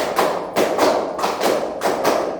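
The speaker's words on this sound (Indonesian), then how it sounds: "Tepuk 1, tepuk 2, tepuk 3, tepuk 4, tepuk 4 2 kali" A classroom group claps hands in a counted rhythm during a micro-teaching lesson: sharp, close, even claps in small sets, with no talking.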